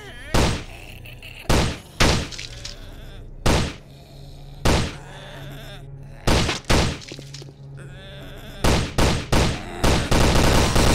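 Gunfire in Invention 3, a zombie shooter modeled on Left 4 Dead, cracks out as loud, close single shots spaced a second or so apart, then bunches into a quicker burst near the end, over a low game background hum.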